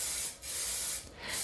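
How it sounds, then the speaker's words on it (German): Dupli Color Deco Matt matte spray paint hisses from an aerosol can, sprayed in crosswise coats from about 25 cm away; a steady close hiss that briefly dips twice between passes. "Sprühen Sie dafür im Kreuzgang mehrere Schichten mit einem Abstand von ca."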